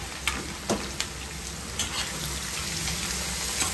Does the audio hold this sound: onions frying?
yes